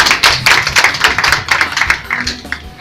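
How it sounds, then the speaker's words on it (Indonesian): A small group of business tourism students clapping briskly at close range, the claps sharp and uneven, with a voice speaking faintly underneath. "Kita kasih tepuk tangan buat kita dong."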